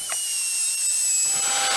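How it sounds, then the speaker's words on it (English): A cordless drill spins a rag against a tire for a burn-in, giving a steady high motor whine that holds across the short stretch, close and alone with no talk. "Chuck it in the drill just like we did for buffing."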